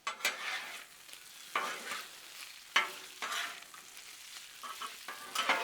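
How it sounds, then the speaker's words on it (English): Cooked sausage and bacon are stirred together on a Blackstone flat-top griddle, giving repeated scraping spatula strokes in irregular bursts over a soft continuous sizzle, close and alone. "we just want to mix them all together."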